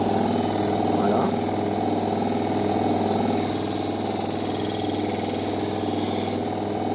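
Low-cost backstand belt grinder running a 1000-grit belt to sharpen a knife, a steady loud motor whir and belt hiss with a brighter grinding rasp partway through as the blade contacts the belt.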